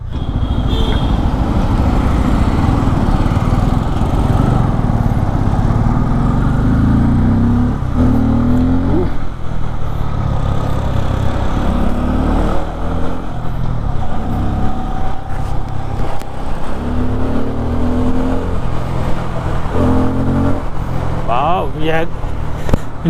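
A 2024 Bajaj Pulsar N250 motorcycle runs with a continuous engine and exhaust drone, rising in several revving sweeps as it shifts gears, and a voice talks over it throughout.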